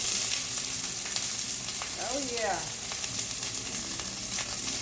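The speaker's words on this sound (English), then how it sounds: "you're gonna hear a little crisp, a little frying, because this is fried cabbage" Cabbage fries in a pan with a steady, close crackling sizzle that runs the whole time, and a brief spoken remark breaks in near the middle.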